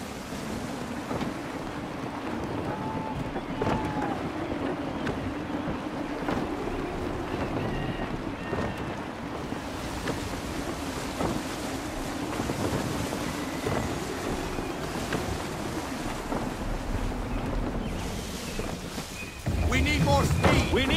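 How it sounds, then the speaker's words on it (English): Gusty wind and rushing waves while sailing a ship in Assassin's Creed 3, a steady loud roar of wind and water that swells near the end, with voices faintly under it. "Gusty winds can be difficult to manage."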